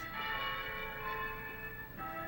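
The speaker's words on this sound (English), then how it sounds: "This is the testing of the bells of the Melrose Chapel at Brewster." Cast chapel bells for the Melrose Chapel at Brewster ring during testing, with sustained tonal overtones and a second strike near the end, faint and distant.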